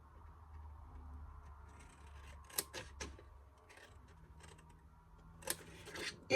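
Paper card being cut along its fold lines by hand for a floral winter greeting card, giving a few faint, sharp snips and rustles spaced apart over a quiet background.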